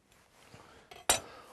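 A knife slices through a small bunch of fresh potted thyme, giving a brief soft scrape and then one sharp close clink of the blade against the board, with no one speaking.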